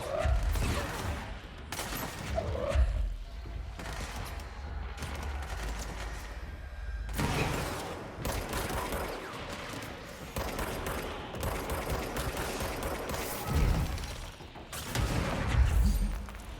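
Rapid gunfire bursts and impacts in the video game Control crackle and boom continuously, dense and loud, with mechanical clatter mixed among the shots.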